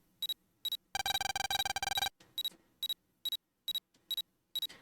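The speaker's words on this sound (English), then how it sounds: "so we don't hear the beeping of the PET" Electronic PET device from the Mega Man Battle Network 4 video game, sharp repeating double beeps in a steady pattern, broken by a rapid burst of busy chiptune chirps.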